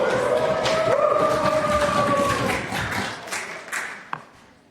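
In the National Assembly of Québec chamber, legislators thump their desks and applaud in a loud run of irregular thuds and claps that thin out and fade, with a sliding tone running underneath and one sharp knock near the end.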